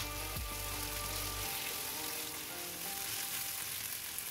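Tofu and beef skin hitting hot oil with sliced spices, a continuous close sizzle and crackle of stir-frying, with a brief low clunk at the start as the pieces go into the pan.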